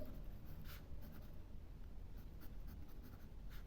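Pen scratching across paper during a Class 7 maths lesson, a steady soft continuous scribble with short strokes, close and fairly quiet with no talking over it.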